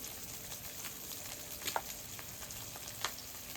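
Burger patties frying in a cast iron pan give a faint, steady sizzle with light crackles and a couple of sharper pops, heard alone without talk.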